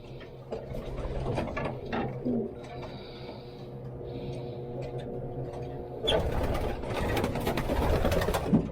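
Pigeons cooing and fluttering in a loft with a cock section, a steady layered murmur of birds with some shuffling and clattering, growing busier toward the end.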